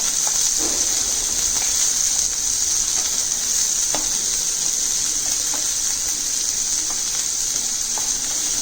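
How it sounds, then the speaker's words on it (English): Mutton fry with finely cut shallots sizzles and crackles in a pan over high flame, with a steady hiss and occasional clicks of stirring, no voices. "Give that a nice stir."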